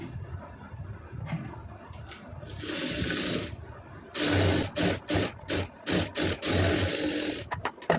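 A sewing machine stitches the lining of a blouse sleeve, running in a steady whir and then in a quick series of short, evenly spaced bursts, close and clear with no talk.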